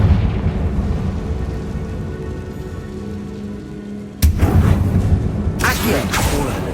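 A Confringo spell in Hogwarts Legacy, with a low rumbling ambience that breaks into a sudden sharp blast, followed by a second burst of crackling, noisy debris close by.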